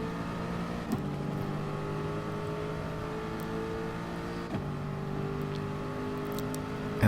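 A race car engine in Gran Turismo Sport at the Dragon Trail seaside circuit holds a steady high whine while drafting, with brief gear-shift dips in pitch around the lap, unbroken by talk.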